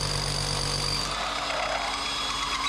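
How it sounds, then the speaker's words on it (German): A steady, loud motor whine and whoosh of a vacuum cleaner running continuously, sucking up dust from milling floor-heating channels, with no talking. "jetzt muss man mal saugen."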